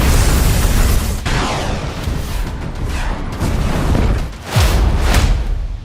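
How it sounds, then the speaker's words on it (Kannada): A truck explodes after a drone bomb strike, giving heavy booming blasts and rolling rumble, with a sharp burst near the end, loud and distant-sounding in open air. "ಡ್ರೋನ್ ಬಾಂಬ್ ಬಿದ್ದ ರಭಸಕ್ಕೆ ಟ್ರಕ್ ಭಯಾನಕವಾಗಿ ಸ್ಫೋಟಗೊಂಡಿದೆ"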